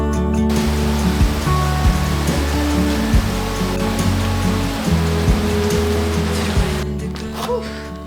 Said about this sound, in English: it is pouring rain outside